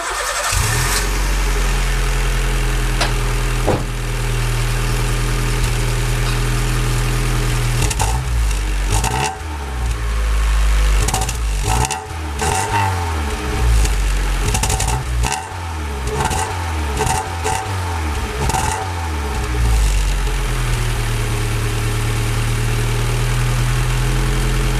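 A Honda Civic EJ9 engine cranks and starts, then settles into a steady, close idle with a few light revs along the way, heard alone without talk.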